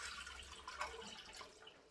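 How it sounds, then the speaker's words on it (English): Four cups of water pour steadily into a soup pot in a kitchen, a faint, continuous splashing stream with no talking. "So I'm going to start with just 4 cups of water."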